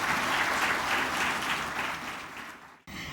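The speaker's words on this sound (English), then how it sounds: "we deserve a round of applause" A large audience at the opening of the African Philanthropy Forum 2022 applauds in a full, steady wash of clapping that fades out near the end, then the room resumes after a brief cut.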